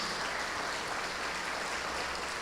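A church congregation claps in a dense, continuous wash of applause, steady and even for the whole stretch with no voices over it.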